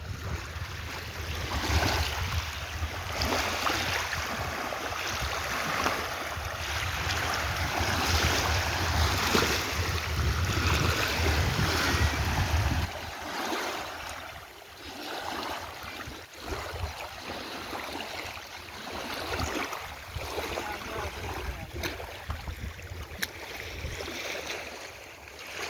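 Water surging and churning at Dantiwada dam under cloudy skies, a loud continuous roar with heavy wind buffeting the microphone through the first half, then a somewhat lighter rushing wash, with no talk.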